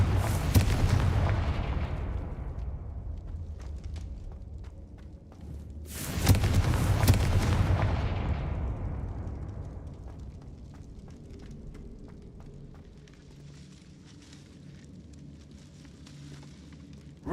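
Two Confringo fire spell explosions in Hogwarts Legacy, loud booming blasts about six seconds apart, each with a sharp crack and a long rumbling decay, followed by quieter crackling and faint game ambience.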